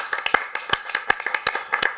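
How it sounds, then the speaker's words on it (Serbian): A small burst of studio applause for a caller on a live music request show, a couple of seconds of brisk, close hand claps with no voices. "jedan aplauz za vas"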